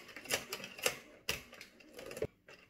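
Addi circular knitting machine on a first try, apparently in need of oil and making an odd noise: a handful of sharp, irregular clacks and rattling clicks, faint and close, with no talk.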